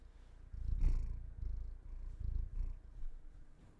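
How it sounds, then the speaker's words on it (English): A contented pet cat purrs steadily at close range, the low rumbling coming in soft rhythmic swells with each breath, no talking over it. "They want to hear your purring."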